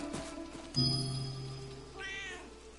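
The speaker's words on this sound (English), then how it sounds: "Another cat?" A cat meows in the video game Where Winds Meet on PS5, one short low call followed by a rising, wavering meow, fairly faint over quiet ambient game sound.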